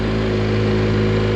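A BMW GS 1250 motorcycle engine drones loudly and steadily at high revs, running out of breath, its even tone mixed with rushing wind and no talking.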